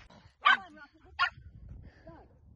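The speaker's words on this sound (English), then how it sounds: "This is a New York dog." A dog outdoors gives two sharp, loud barks about a second apart, followed by softer whining yips against quiet rustling background.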